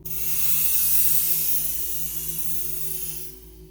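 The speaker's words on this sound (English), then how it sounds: "we're going to go ahead and spray that" Spray paint hisses steadily onto rifle parts in one continuous close burst lasting a few seconds, loud at first, then easing off before cutting out.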